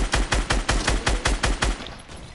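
Rapid automatic gunfire in Fortnite, about ten evenly spaced loud shots in a steady burst that stops near the end, with no talking over it.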